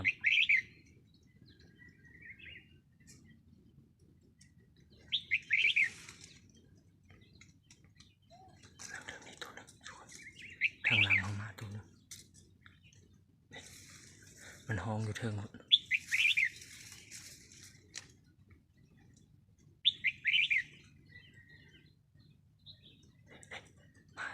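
Wild birds give short chirping calls in repeated bursts near a caged red-whiskered bulbul, some calls close and others quieter, over a hushed background with occasional low thumps and soft rustles.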